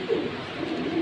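Silver Hammer pigeons coo in a soft, low, brief murmur, close by and heard alone.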